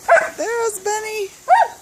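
Black dogs at play give a few short yips and whiny barks, close and loud, with people talking nearby.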